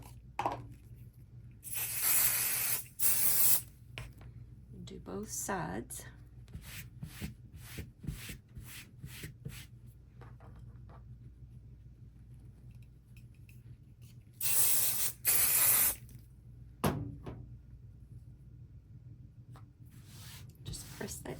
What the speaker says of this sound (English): we're going to attach it with some basting spray